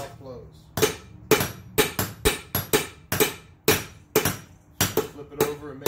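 Steel bottle opener blank forged on an anvil with a hand hammer, delivering about a dozen sharp, ringing blows in an uneven rhythm, close and loud, with a metallic clink on each strike.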